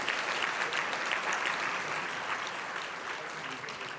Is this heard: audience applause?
yes